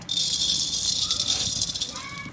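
Coriander seeds roast in a dry pan with a dense, hissing rattle as they are tossed and stirred, close and continuous for a couple of seconds.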